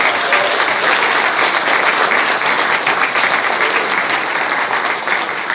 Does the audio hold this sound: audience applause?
yes